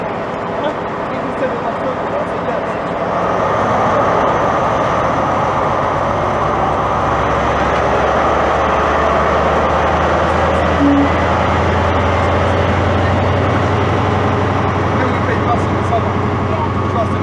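A train departs Peterborough station on the East Coast Main Line, a loud, sustained rumble and roar that builds after a few seconds and carries on steadily, close by, with people talking underneath.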